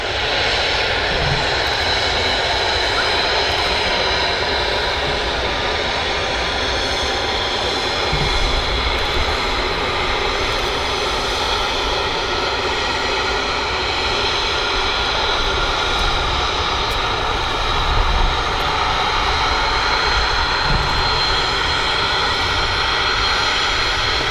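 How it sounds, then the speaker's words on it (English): An Embraer jet departs Manchester Airport for Jersey, a loud, steady broadband engine roar filling the whole stretch with little variation, no talking heard. "this aircraft is departing for Jersey"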